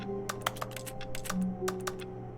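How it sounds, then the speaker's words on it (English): Keyboard typing clicks from The Stanley Parable Ultra Deluxe, a run of sharp, irregular keystrokes over a steady low office hum, fairly close and moderately loud with no voices. "The clicking makes a keyboard noise."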